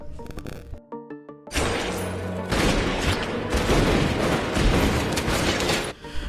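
Gunfire from the 2010 French action film 22 Bullets, where men in black shoot at someone inside a car: a loud, sustained fusillade of cracks and bangs that follows a brief burst of music.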